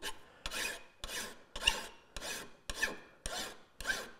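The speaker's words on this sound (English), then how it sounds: "10 to 12 inch flat single cut file will work for this." A 10 to 12 inch flat single cut file rasps across a wooden cam clamp in eight even strokes, each a crisp, close scraping pass separated by short pauses.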